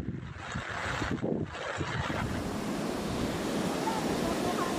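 Large storm waves from Super Typhoon Nando pound a coastline at resorts in San Felipe, Zambales, a continuous loud roar of surf mixed with wind buffeting the microphone, with no talk.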